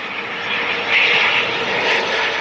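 An aircraft at London City Airport, likely a Dash 8 or ATR turboprop taking off, roars steadily and loudly across the whole stretch, swelling slightly midway, with no voices over it.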